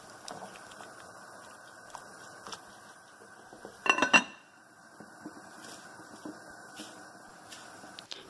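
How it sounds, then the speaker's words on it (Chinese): A lid set onto a soup pot holding dried and fresh cabbage soup makes a brief metallic clatter midway, standing out clearly over quiet kitchen background noise. "冚蓋用大火滾起。"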